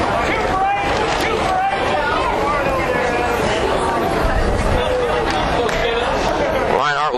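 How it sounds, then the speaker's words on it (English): A steady hubbub of crowd chatter fills a baseball game at Steer Park, a dense, constant murmur of many voices without pause, with a brief sharper sound near the end. "Pretty good crowd on hand tonight here at Steer Park."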